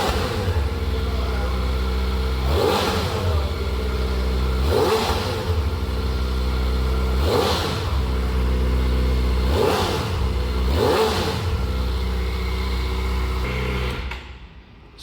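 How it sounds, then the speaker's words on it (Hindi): A Kawasaki Ninja ZX-4R 400cc inline-four warming up, heard from a short distance, idles steadily and is blipped in five sharp, evenly spaced revs before the sound cuts off at the end. "सुनने में कैसी लग रही है आवाज़ 400 सीसी 4 सिलेंडर की।"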